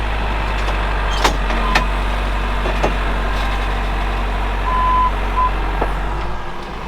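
A truck idles with a steady low engine rumble while a reversing alarm beeps intermittently, the truck backing up to unload a bunk of harvested Christmas trees; nobody speaks.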